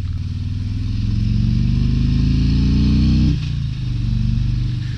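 A 2023 Harley-Davidson Road Glide Limited with the 114 engine rides along, its deep engine rumble rising in pitch under acceleration, then dropping at a gear shift and pulling again, loud and close, with no talking.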